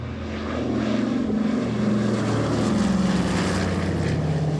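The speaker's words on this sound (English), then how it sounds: "a Dakota aircraft performs a flypast." A Douglas Dakota propeller aircraft makes a flypast over a parade of veterans and paratroopers, its loud, steady piston-engine drone swelling and holding with a deep throbbing hum throughout.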